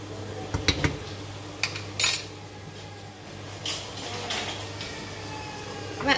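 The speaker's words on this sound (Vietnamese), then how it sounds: "sẽ dùng cái thìa để các bạn đảo đều nó lên" A metal spoon scrapes and clinks against a cooking pot as mung bean sticky rice is stirred, with scattered knocks and scrapes over a steady low hum.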